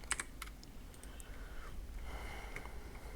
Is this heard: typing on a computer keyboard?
yes